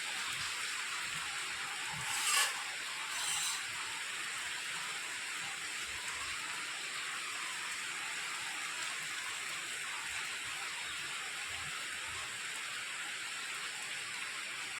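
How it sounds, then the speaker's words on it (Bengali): Monsoon rain falling steadily outdoors, a soft, even hiss of drops that continues throughout at moderate distance, with a brief faint knock or clatter near the start. "বৃষ্টি চলে এলো আবার।"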